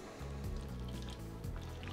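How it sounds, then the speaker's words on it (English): Water trickling and dribbling into a container holding a cut avocado, a soft, close, fairly quiet pour with small splashy drips over a faint background hum. "Just take cut avocado, put it in the container, fill it with water."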